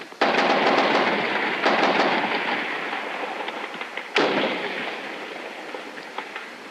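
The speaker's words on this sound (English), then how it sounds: "The Army is here and they're firing." Army troops fire weapons on a plaza during a 1968 rally in Mexico City, with sustained, dense bursts of gunfire; a sharp fresh volley hits near the four-second mark, and the shooting stays loud and continuous throughout with no voices.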